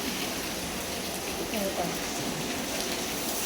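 A continuous wash of rain comes down from above onto a terrace, producing a steady, uniform hiss at moderate level with no distinct individual drops.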